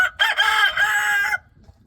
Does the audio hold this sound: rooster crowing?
yes